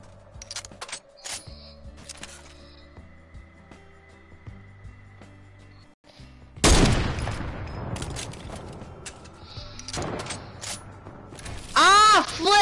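Sustained bursts of rapid automatic gunfire from a video game erupt midway and continue in dense volleys, preceded by quieter game interface tones and clicks, with players talking throughout.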